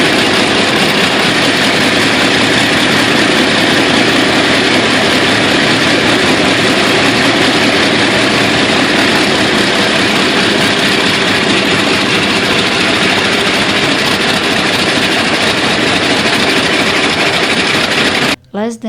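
A Pratt & Whitney R2800 radial engine on a Vought F4U Corsair runs loud and steady, a dense continuous roar throughout before cutting off abruptly at the very end.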